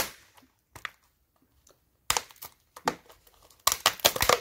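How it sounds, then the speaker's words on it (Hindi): A branding sticker label is peeled open, giving crisp crinkling and tearing snaps in quick irregular bursts after a brief quiet stretch. The sound grows louder and denser toward the end. "ये स्टिकर है, देखिए ये स्टिकर, ये ओपन हो गया।"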